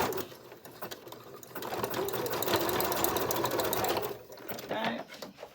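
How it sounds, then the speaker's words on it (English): A sewing machine runs a zigzag stitch through a thick seam, a steady fast mechanical whirr and chatter that rises for a few seconds and then slows, close by, with faint talk in the background. "now I'm just going to zigzag it instead of putting on the overlocker, because it's going to be too thick"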